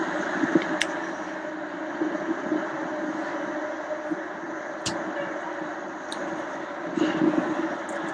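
A fire engine pulls away from a hydrant at a fire training facility, its steady engine rumble running continuously at moderate distance with a few faint clicks and knocks over it.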